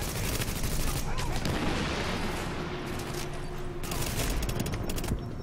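Sustained bursts of suppressing gunfire rattle from the video game The Division, dense overlapping shots in a loud continuous barrage that briefly thins before resuming.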